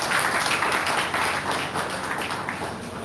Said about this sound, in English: Can you clap for yourself, please?